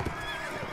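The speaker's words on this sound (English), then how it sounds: "No, no, horse, horse, move up." A horse neighs in the Warband mod Imperial Rome, with faint hoof clip-clop beneath it, a brief close whinny over game noise.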